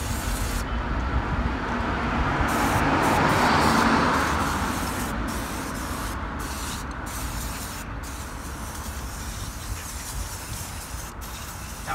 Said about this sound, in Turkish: Şimdi böyle biraz daha iyice sıkacağım. Sıkarken de böyle çalkalayın arada.